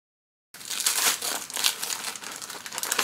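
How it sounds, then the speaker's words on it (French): Gift wrapping paper is torn and crumpled open in quick, loud crinkling bursts right up close, starting abruptly after a brief silence and carrying on continuously. "je déchire comme une sauvage"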